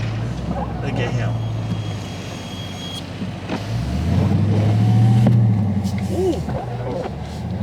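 A 2022 Dodge Charger Scat Pack Widebody revs hard as it fishtails in blizzard snow, the engine swelling to a loud roar mid-clip before easing off, with music and a brief voice exclamation over it.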